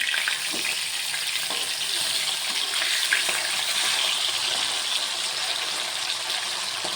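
Hilsa fish frying in a pan gives off a steady, close crackling hiss that holds at an even loudness throughout, with no voices.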